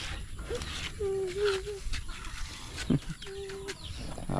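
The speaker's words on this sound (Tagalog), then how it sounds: "Habulin na naman itong mga sisiw nito." Chicks peeping on a farm, thin high chirps in short bursts and sustained calls over steady background noise, with a brief scuffle near the three-second mark.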